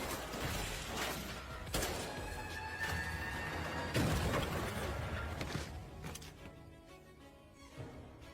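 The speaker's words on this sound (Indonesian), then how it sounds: "Shengzu panik menembak ke arah Xian." Gunfire in a film scene where a panicked man shoots at someone driving a forklift at him, heard as a dense burst of loud, sharp cracks and crashing impacts over about six seconds, thinning out near the end.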